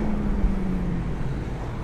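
An Aston Martin V8 Vantage Roadster with the 4.7 V8 and manual gearbox rumbles along on the road, a steady low engine drone heard from inside with road noise and no voices.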